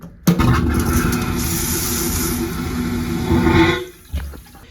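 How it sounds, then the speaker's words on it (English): A cruise ship cabin toilet on the Celebrity Flora lets out one loud, sudden power flush: a roaring rush of water and suction that holds steady for about four seconds, then cuts off abruptly. "Whoa, what a flush!"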